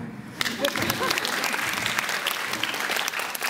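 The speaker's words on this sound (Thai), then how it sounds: "ขอเสียงปรบมือด้วยครับ" An audience at a Pecha Kucha Bangkok presentation night claps in a steady, dense burst of applause, starting after a brief quiet moment and continuing loudly throughout, with no clear talk over it.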